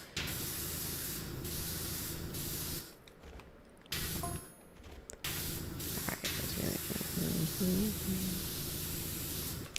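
A virtual pressure washer in Powerwash Simulator 2 sprays steadily during a bowling alley cleaning job, giving a loud, continuous hiss that cuts out briefly twice before resuming.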